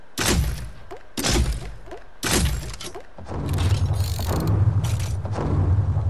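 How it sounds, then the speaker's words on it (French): Fortnite Egg Launcher shots, three sharp firing thunks spaced about a second apart, each trailed by a short burst, followed by a denser stretch of louder popping explosions and mechanical clatter, close and without talk. "Quand je tire, ça lance un œuf. Et ça explose."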